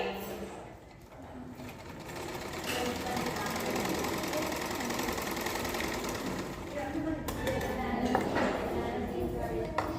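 A sewing machine runs a steady, fairly loud stitching whir while sewing half-inch tucks on the back piece of a blouse, with a brief pause near the start and a voice talking underneath.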